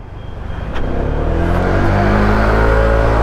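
A Honda ADV160 scooter fitted with an R1 pulley set revs hard, its engine note climbing steadily and staying loud and close for the full stretch with no let-up.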